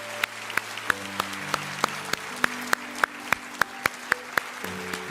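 An indoor audience claps steadily in warm applause honoring elders over seventy, a dense sustained patter with a few sharper individual claps standing out, while a soft tonal hum runs beneath.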